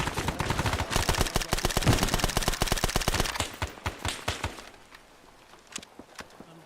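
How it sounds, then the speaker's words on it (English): Heavy gunfire rattles in the video game Arma 3, a dense run of rapid, loud close shots that thins out into scattered single bangs, with a frag grenade blast in the mix. "Okay, I'm throwing another grenade."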